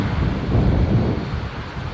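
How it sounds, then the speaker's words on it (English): Sudden gust of wind roars across an open launch site during a Starship SN6 hop attempt, a loud continuous low rumble that swells and then eases slightly, heard without voices. "Well, that wind gust all of a sudden."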